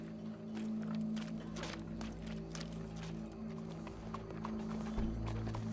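Horse hooves clip-clop steadily with a brief whinny in Red Dead Redemption 2, set against a low, continuous hum and background ambience.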